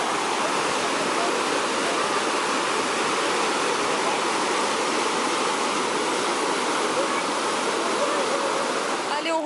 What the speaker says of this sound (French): Au-dessus des chutes.